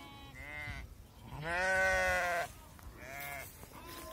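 Qaradolaq breed sheep bleat several times at close range, one long loud bleat framed by shorter ones, with no talking over them.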